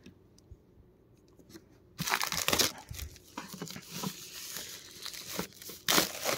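Plastic wrap being torn open on a Blu-ray 4K steelbook box set, heard as close crinkling and sharp crackling rips starting after a quiet moment, with a final louder tear.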